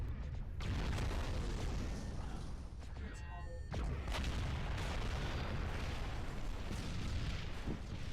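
Artillery fire from the MechWarrior Living Legends video game sounds as a dense, continuous rumble of booms and blasts, with a sharp burst partway through and a voice speaking over the noise.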